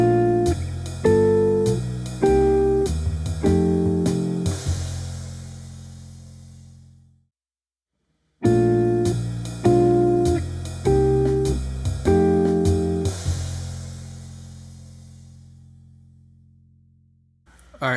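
Clean jazz guitar comps a chromatically walking ii-V chord progression with a moving bass line, played twice in a row, each pass a run of plucked chords that rings out and fades, with a short silence between them.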